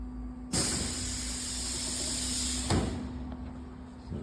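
A metal workshop shutter slides open with a loud, sustained rushing rattle that starts abruptly, runs a couple of seconds, then stops with a clunk.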